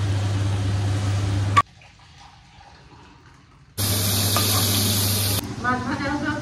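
Fish frying in a pan: loud, broad hissing sizzle over a steady low hum, cut by a near-silent gap of about two seconds before the sizzle returns just as strongly.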